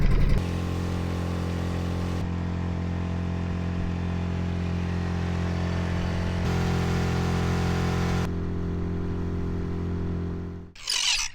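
A boat's outboard motor given power in Marlborough Sounds, a loud, continuous engine hum that holds steady and steps up in pitch a few times as it accelerates, ending with a brief splash or gust.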